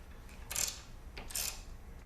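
Bolts being tightened on a WIN series printing press, two short metallic ratcheting bursts about a second apart over a low mechanical hum, close and quiet.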